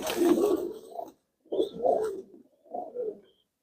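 Pigeons, young birds just dewormed, give three soft, low cooing phrases in short bursts separated by brief pauses, fairly close and alone without speech.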